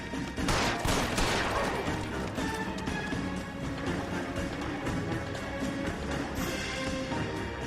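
A loud, dense volley of gunfire erupts in an L.A. Noire gunfight, with a heavy opening burst that settles into sustained crackling shots and a low rumble.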